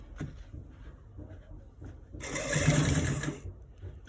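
A sewing machine stitches a shirt placket, one short burst of motor whir and needle clatter of about a second that stands out against quiet handling noises and faint room sound.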